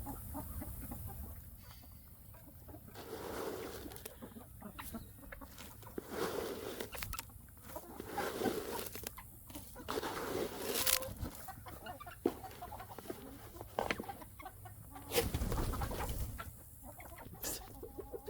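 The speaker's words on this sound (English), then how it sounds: "We have a new breed of chicken." Several chickens of a new breed cluck and chortle in a farmyard in uneven, repeated bursts, fairly close, with occasional louder calls and a few brief scratches and knocks.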